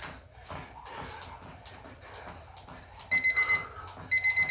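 A rapid electronic workout timer beeps in two bursts of a few beeps each during a jump rope class, over background shuffling and thumping movement.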